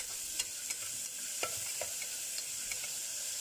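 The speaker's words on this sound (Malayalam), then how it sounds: "അതിട്ട് കൊടുത്തിട്ട് കുറച്ച് ഉപ്പ് കൂടി ഇട്ടിട്ട് നന്നായിട്ട് വഴറ്റി കൊടുക്കുക." Chopped onion and green chili sautéing with salt for egg kurma: a steady close sizzle with scattered scrapes and light taps of a spoon stirring in the pan, no voices.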